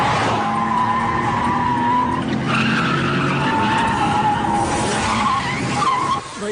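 Tires screech and skid as a car arrives, a continuous squealing roar layered with engine noise that holds steady, then drops off at the very end.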